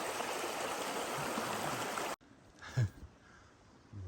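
A stream rushes steadily at a hiking-trail river crossing on the Sespe River, a loud, close, continuous wash that cuts abruptly to a quieter trickle with a brief splash.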